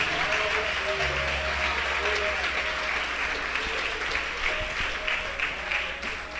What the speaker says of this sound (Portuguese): Aplaude com muita alegria